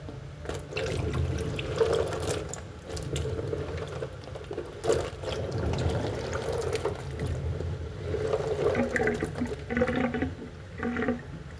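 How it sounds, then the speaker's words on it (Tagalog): Water trickles and gurgles steadily as it drains away, a soft continuous flow with occasional louder glugs near the end. "Aalisin ko na yung tubig para bababa na siya."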